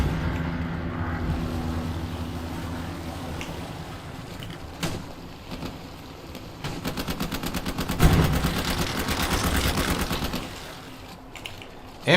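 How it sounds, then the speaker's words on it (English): A machine gun fires in the WWII shooter Hell Let Loose, first as a long, rapid, rattling burst of evenly spaced shots and then as further volleys over a steady low battlefield rumble. "MG firing."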